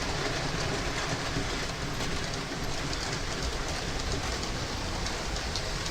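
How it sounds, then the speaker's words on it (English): A toy Coca-Cola train runs around its track, giving a steady, continuous rattling clatter with faint rhythmic clicks throughout, close and alone without voices. "Coca-Cola train."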